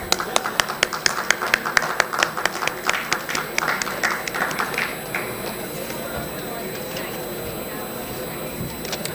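Applause from an audience at a technology exhibition in Ahmedabad: a burst of sharp, closely spaced claps that thins out after a few seconds into scattered taps and room murmur.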